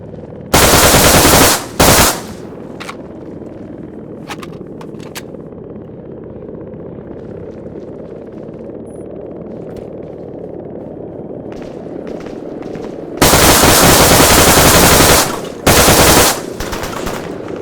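CAR-95 rifle fire in Arma 3 comes as loud, rapid automatic bursts at the start and again near the end. A long stretch of low, steady ambient rumble sits between them.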